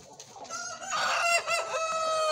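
Four-month-old crossbred fighting chickens cluck and crow together in a close flock, with a steady stream of overlapping calls and a loud crow rising near the middle.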